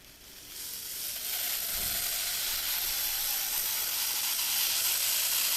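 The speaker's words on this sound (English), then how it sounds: "you can hear something's up with that engine" A faulty small engine on a Fleischmann model, running just after start-up, gives a steady hissing, sizzling whir that rises quickly and then holds at a constant level throughout.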